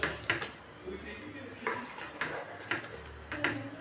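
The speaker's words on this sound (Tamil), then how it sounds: "அதை வந்து நம்ம கிரேவியில் ஊற்றிடலாம் ஊற்றிட்டு நல்லா கலந்து விட்டுக்கணும்" Spoon clinks against a metal pot while ground paste is poured into rajma gravy and stirred in, several sharp scraping knocks spaced through the quiet stretch with a low background hum.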